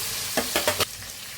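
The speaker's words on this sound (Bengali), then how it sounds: "মাছটা আস্তে আস্তে ভাজা হোক।" Tilapia rubbed with salt, chili powder and turmeric fries in hot oil with a continuous close sizzle, broken by four quick knocks or scrapes of a utensil near the middle.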